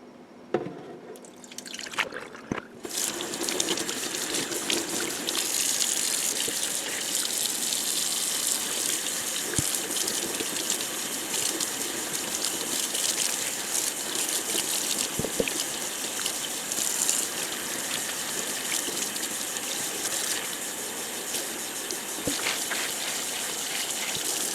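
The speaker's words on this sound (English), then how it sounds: "so let's go ahead and wash this out" Water runs steadily as ice-dyed tie-dye fabric is rinsed out, a continuous close gush with dripping and splashing that carries on throughout with no talk.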